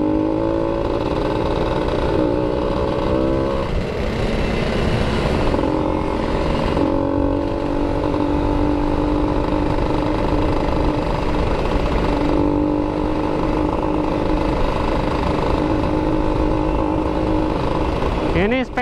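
A motorcycle engine runs steadily nearby, likely an RTX Racing build, idling with a constant throaty drone and harmonic whine, with people talking over it throughout.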